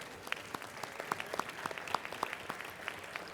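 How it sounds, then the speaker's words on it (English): An audience applauds panel speakers at a franchise sales conference: steady, moderately distant clapping with distinct individual claps throughout, no talk. "Let's give them another round of applause as they're sitting right here."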